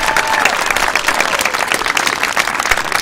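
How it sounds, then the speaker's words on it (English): Audience applause at an 8th grade promotion ceremony, a dense, steady wash of many hands clapping throughout, loud and sustained without a break. "Let's give Sal a great big round of applause"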